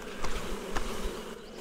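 Honeybees buzz around a hive outdoors, making a dense, steady droning hum from many insects with brief louder passes close by.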